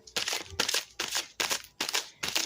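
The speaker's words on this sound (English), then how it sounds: "One more card, please. One more card, and one more shuffle." Tarot cards being shuffled, a series of about six dry riffling bursts in a steady rhythm, close and fairly quiet, with no talking.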